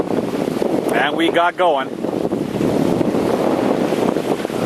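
Strong wind buffets a sailboat lying at anchor in the eastern Bahamas, with roughly 15-knot gusts and big ocean waves making a continuous loud roar and rumble. Someone speaks briefly early on over the steady noise.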